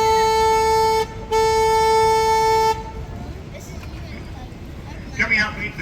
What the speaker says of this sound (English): For safety purposes now, I'll be honking my horn.